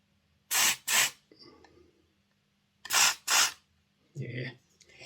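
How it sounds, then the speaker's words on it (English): Spray air blasting out the axle shafts of a Hornby Class 91 model locomotive, in two pairs of short, sharp hissing bursts close to the microphone, with small handling noises in between. "We haven't blasted out the axle shafts."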